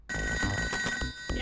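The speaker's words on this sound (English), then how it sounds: "Telephone!" A telephone ringing in the ToeJam & Earl video game, a bright electronic trill repeating rapidly in a short burst, with game sounds and a voice faintly underneath.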